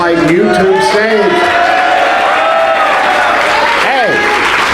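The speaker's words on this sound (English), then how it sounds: "it doesn't happen many times in life that you get that kind of applause" A crowd at a high school football pep event applauds and cheers for the senior players, a loud sustained roar of clapping and whoops with an excited voice calling out over it.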